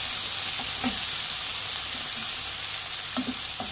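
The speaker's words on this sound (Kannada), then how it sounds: "ಈರುಳ್ಳಿ ಫುಲ್ಲು ಬ್ರೌನ್ ಆಗಿ ಹುರಿಬೇಕು" Onions frying until brown for tomato gojju, a steady close sizzle with a few soft stirring scrapes throughout.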